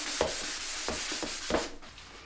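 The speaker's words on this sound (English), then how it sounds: "I'm going to go ahead and give this guy a quick sand and wipe it down" Cabinet surface being hand-sanded before painting, with several quick rough rubbing strokes in an uneven rhythm, close and fairly soft, no talking.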